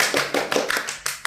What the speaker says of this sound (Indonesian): Beri tepuk tangan dulu dong untuk narasumber kita pada kali ini